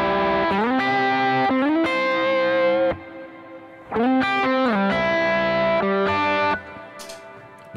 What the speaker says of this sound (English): This is just reverb.